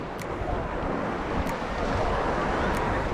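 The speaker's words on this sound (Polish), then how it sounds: "zmagam się tutaj z wysokimi falami" High waves at a Croatian seaside while wading with a metal detector: a continuous wash of surf and wind noise close to the microphone, with brief splashes breaking through at regular intervals.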